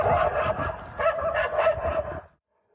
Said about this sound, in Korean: 개 짖는 소리가 끝없이 흘러나옵니다.